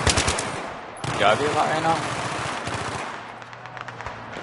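Rapid bursts of gunfire in Battlefield 3 crackle at the start and return faintly later, while someone speaks briefly in German over the shooting.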